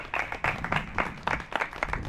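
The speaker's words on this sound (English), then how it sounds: "All right, clap." Scattered audience clapping at a polyglot language club meeting, a short burst of uneven individual claps close by, loose and irregular rather than a full crowd roar.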